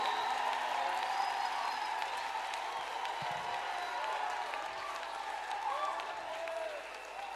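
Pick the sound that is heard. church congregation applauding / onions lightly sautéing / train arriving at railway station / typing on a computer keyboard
church congregation applauding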